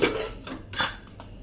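Metal kitchenware clatters a few times as a pressure cooker of boiled chickpeas is opened, short close clanks and scrapes of the lid and pot.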